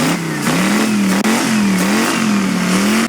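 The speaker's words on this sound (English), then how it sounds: "Show them how the motor works, Milks." Jet ski engine with a cracked piston ring, running at a steady high-pitched rev with small wavering surges, loud and close throughout.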